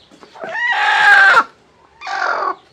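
A small brooding hen gives two loud, close clucking calls, a longer drawn-out one followed by a short pause and a shorter second call.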